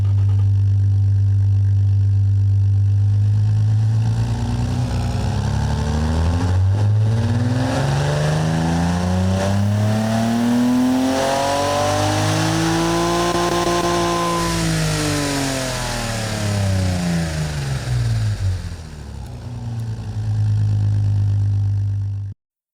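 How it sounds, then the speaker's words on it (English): A powerful inline-six engine, restricted under a gentleman's agreement and fitted with headers and a turbocharger, revs up in the Automation game from a steady idle to a high peak and back down, loud and close with no talk over it. "Let's give you a listen to what this powerful Gentleman's Agreement restricted engine, this inline-6 engine, sounds right now."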